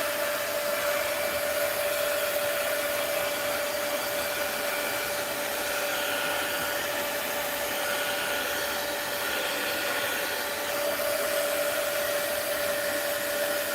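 A steady, loud electric whoosh from a hair dryer runs without a break as it dries a mixed-media art journal page, with a constant whine under the airflow.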